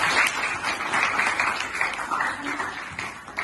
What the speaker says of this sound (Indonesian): tepuk tangan untuk kelompok Nasiba